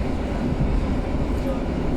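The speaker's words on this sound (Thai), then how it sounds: "ตอนนี้คือนั่งอยู่บนรถไฟค่ะ" Interior of a moving passenger train on a ride through Poland, a steady low rumble and rolling hum filling the carriage at an even level.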